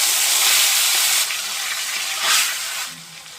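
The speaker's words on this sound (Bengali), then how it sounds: "এবার আমি লোটে মাছটা আস্তে আস্তে দিয়ে দেব।" Lote fish (Bombay duck) frying in hot oil, a steady loud broadband sizzle and hiss that eases slightly partway through, then swells again briefly as the pieces settle, with no voices.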